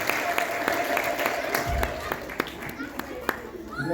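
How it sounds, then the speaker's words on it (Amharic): A congregation at an Orthodox Tewahedo Holy Trinity feast applauds with scattered, sharp claps over a steady background of voices and sustained tones. "አጨብጭቡ።"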